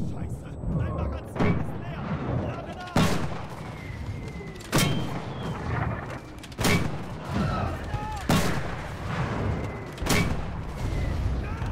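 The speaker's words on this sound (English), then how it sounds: "this is a good mortar round, boys" Mortar rounds in the World War II shooter Enlisted boom one after another at steady intervals of roughly two seconds, each sharp blast followed by rumbling, with battlefield noise and occasional talk between the impacts.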